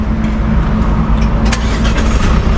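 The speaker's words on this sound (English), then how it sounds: "No, come, let's start the car." A Mercedes CLS diesel car engine runs with a steady, loud, even rumble and a low droning hum throughout, close by with no talking.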